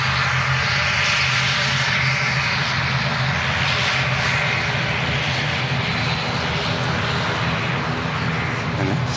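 ATR turboprop airliner at Manchester Airport, its engines and propellers droning steadily and loudly up close with a sustained rumbling roar and tonal hum, no talking.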